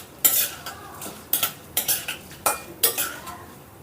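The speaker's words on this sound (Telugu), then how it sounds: "మనం జీడిపప్పు వేసాం కదా, అవి లైట్ గోల్డ్ కలర్ వచ్చేంత వరకు వేపుకుందాం." Cashew nuts being fried in a pan for semiya upma, stirred with a metal spoon: a handful of sharp scrapes and clinks against the pan come at irregular intervals over a faint low sizzle, with no talking.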